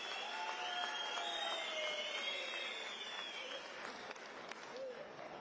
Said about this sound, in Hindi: जोरदार तालियां बजाकर आदरणीय जयराम ठाकुर जी का स्वागत किया